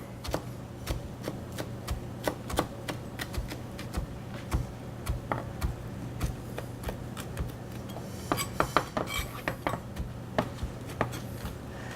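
A knife chops rolled basil leaves into thin strips on a board, sharp regular taps at a steady rhythm that quicken into a denser flurry toward the end, close and clear with no talking.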